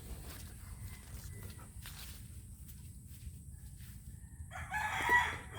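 On a quiet farm in the Philippines, one rooster crows a single time near the end, moderately distant, over a low steady background with faint scattered ticks.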